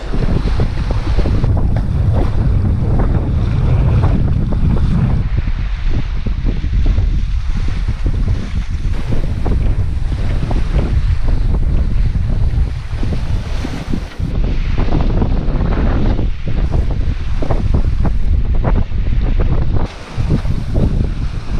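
Strong wind buffets the microphone aboard a sailboat crossing open water from Kodiak toward the Alaska Peninsula, with loud continuous rushing gusts and the wash of waves. There are brief dips in the wind, and no one speaks.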